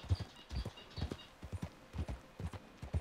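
Horse hooves clip-clopping in a steady riding rhythm in Red Dead Redemption 2, close and fairly soft, the paired beats repeating evenly throughout.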